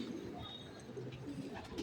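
Faint pigeon cooing at a racing-pigeon loft, set low in a steady noisy background with no clear voices.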